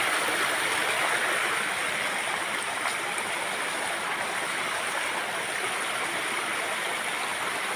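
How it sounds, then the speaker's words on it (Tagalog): Waterfall in Antipolo, Rizal, with water falling in a steady, dense hiss that stays loud and even throughout, close by, with no voices. "Diyan bumabagsak yung tubig."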